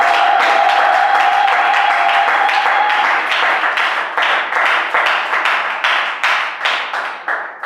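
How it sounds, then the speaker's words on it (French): A church congregation claps loudly and steadily in a dense, sustained round of applause, the clapping thinning into scattered, rhythmic bursts toward the end, with no voices rising above it. "J'aimerais que tu puisses acclamer pour le Seigneur."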